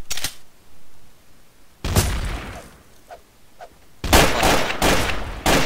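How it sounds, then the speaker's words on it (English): Shotgun fire in a Trouble in Terrorist Town (TTT) video game match, loud bursts of blasts in clusters with quieter gaps between, the heaviest volley near the end. "Oh, that's a shotgun."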